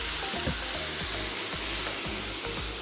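Beef, onions and browned rice sizzle in a stovetop skillet with a steady, close hiss, while a utensil scrapes the pan in a regular rhythm.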